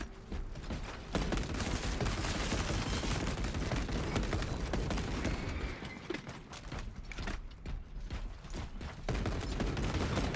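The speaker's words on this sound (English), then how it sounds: "I gotta say, I like the heavy bolt rifle now." A heavy bolt rifle fires in a video game, sharp repeated shots in fast bursts over a busy, loud sci-fi battle din, with brief mechanical clacks between volleys.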